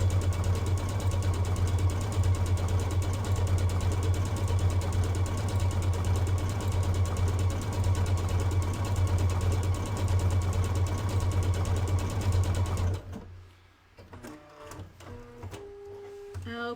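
A sewing machine stitches a decorative pattern with a loud, steady rapid whirring hum for about thirteen seconds, then stops, leaving quieter clicks and handling sounds.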